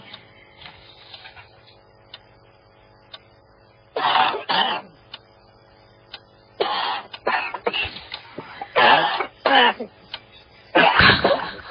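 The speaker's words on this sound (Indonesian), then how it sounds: "ku dengar suara orang batuk dari arah luar kamarku" Coughs from a person outside a room in a radio drama, heard in several loud bursts separated by pauses, with faint clock-like ticking in the quiet stretches between them.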